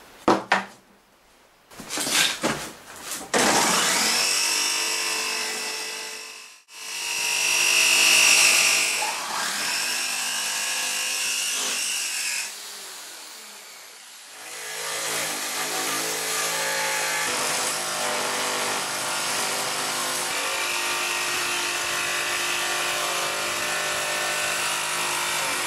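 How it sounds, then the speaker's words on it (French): A jigsaw cutting wood buzzes loudly in long stretches, with clattering knocks and brief pauses between cuts. "scie sauteuse, ça fait beaucoup de bruit"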